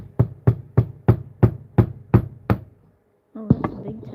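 A window lock mechanism is tapped with a tool in seven or eight sharp, evenly spaced knocks, close and distinct, ending in a brief pause before a short metallic clatter.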